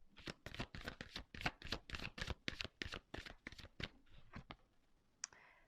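Tarot cards are shuffled and drawn by hand: a quick run of crisp, close riffling flicks for about four seconds, then a few slower snaps and a final sharp card slap, with no talking.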